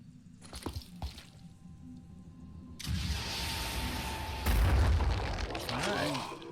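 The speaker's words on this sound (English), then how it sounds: "I think we will use the rocket." Rocket explosion in the video game Phoenix Point, a loud broadband blast that bursts in after quieter game sounds and rumbles on with a second heavier boom, no talk over it.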